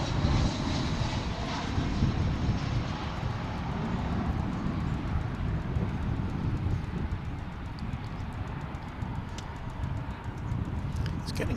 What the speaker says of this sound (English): It's an Airbus A320 arriving from Los Angeles.